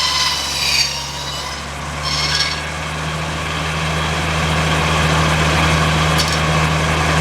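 A sawmill blade cuts through a log, making a loud, steady, grinding drone over a constant low mechanical hum, with a few brief higher scraping bursts near the start.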